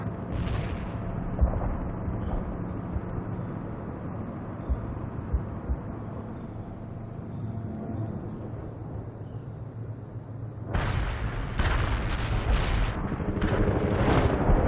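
An artillery barrage in the World in Conflict video game: a continuous heavy rumble of distant shelling, followed near the end by a cluster of sharper, closer explosions bursting in quick succession.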